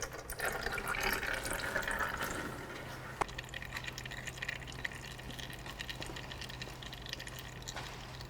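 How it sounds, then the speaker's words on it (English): Type 2 fluid poured into the AYC unit of a worn Mitsubishi Evo 5, a steady close liquid trickle and gurgle running throughout with a couple of faint taps. "So filling this up with the AYC, the type 2 fluid"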